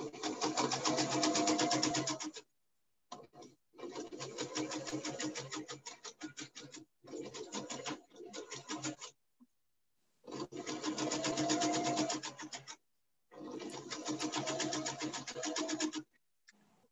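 Sewing machine top stitching fabric along a curve, closing a turning opening in one pass: steady rapid mechanical whirring in four or five long bursts separated by short pauses, close and alone.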